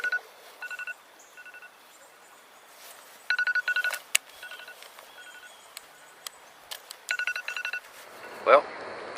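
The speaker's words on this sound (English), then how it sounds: "That's my get out of the water alarm." A phone alarm on a kayak trip beeps in short repeated bursts of electronic tones, faint and clipped, separated by quiet gaps, with a voice speaking near the end.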